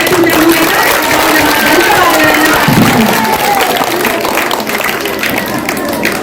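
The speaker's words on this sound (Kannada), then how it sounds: "ಅವರಿಗೆ ಜೋರಾದ ಒಂದು ಚಪ್ಪಾಳೆ" A crowd of schoolchildren at a government school event for donated supplies applauds loudly and continuously, with crowd noise and voices mixed into the clapping.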